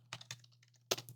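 Quick, close bursts of keystrokes on a computer keyboard while code is typed in the Godot 4 game engine, a few irregular clicks alone and fairly quiet.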